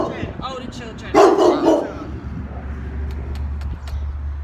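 Dogs barking in a short burst at an animal pound, one close and fairly loud, with kennel background noise and people talking softly around them.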